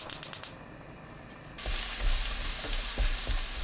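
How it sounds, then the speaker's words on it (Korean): Minced garlic and chopped green onion hit hot cooking oil in a pan over medium heat, a loud steady sizzle rising after a short quieter stretch, with light scraping stirs under the crackle. "식용유 한 큰술, 다진 마늘 반 큰술, 대파 넣고 중불로 켭니다"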